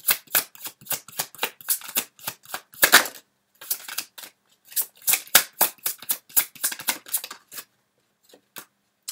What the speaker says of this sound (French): On va sortir une dernière carte.